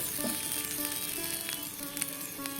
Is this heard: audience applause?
no